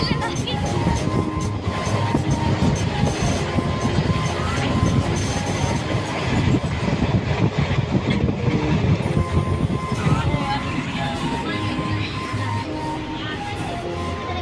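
Passenger train standing at the outer signal of Bhopal railway station, a loud, steady rumbling drone with dense rattling and hum that persists evenly throughout.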